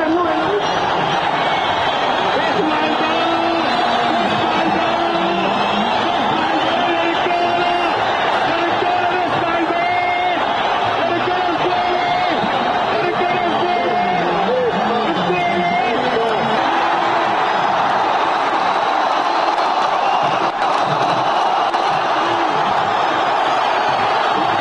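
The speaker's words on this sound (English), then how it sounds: "Listen to that crowd." A huge crowd in Egypt cheering Mubarak stepping down, a dense continuous roar of chanting and shouting voices heard from a distance, with someone talking over it.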